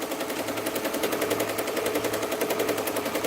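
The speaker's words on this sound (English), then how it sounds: "we're shooting at 760 stitches a minute" An embroidery machine stitching a 24,000-stitch design at 760 stitches a minute gives a fast, even mechanical rattle, close and continuous, with no talking over it.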